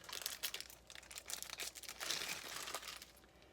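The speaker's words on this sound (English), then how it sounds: "Just going to take this plastic off." Plastic wrapping peeled off a boxed skincare product, crinkling and tearing in close, quiet bursts with no voices.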